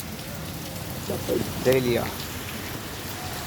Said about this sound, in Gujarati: જો જામનગર વરસાદ ચાલુ થયો છે ત્યાં જોઈ લ્યો